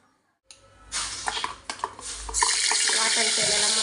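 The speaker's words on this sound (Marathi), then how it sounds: "त्याच्यामध्ये मी हा वाटलेला मसाला घालणार आहे छान असं परतून घेणार आहे" Silence, then a sudden loud sizzle as ground spice paste for chole hits hot oil; the hissing grows stronger and steady as it sautés, with occasional stirring clatter in the pan.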